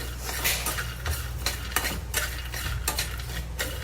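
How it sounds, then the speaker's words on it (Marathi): Roasted chickpeas being stirred and toasted in a pan, a continuous dry rattle and scrape with repeated spoon clinks against the metal, close and fairly quiet, with no talking. "आपण जे फुटाणे जे घेतले होते ते घालून घेऊया आणि भाजून घेऊया"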